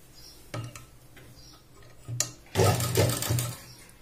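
A sewing machine stitches a dress made from a sari in several short bursts, first two brief runs, then a longer steady rattling run of rapid needle strokes, close and fairly loud.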